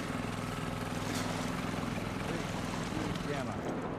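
A boat engine hums steadily in The Last of Us Part II, a constant low droning motor with some wind and water wash, running without a break.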